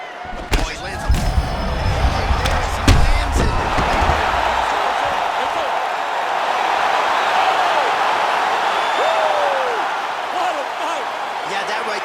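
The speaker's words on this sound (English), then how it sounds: "Crowd absolutely loving it." A crowd cheers and roars after a knockout in the video game EA Sports UFC 4, starting with a few sharp impact thuds and swelling into a sustained broad roar. A commentator-like voice talks over it.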